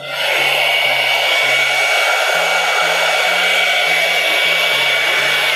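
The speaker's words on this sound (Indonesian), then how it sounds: "kita kasih bantuan hair dryer." A hair dryer blows steadily while a Javanese Solo-style hair bun is styled. The airflow is a loud, close, continuous whoosh with a low motor hum that shifts pitch slightly as the dryer moves. No one speaks.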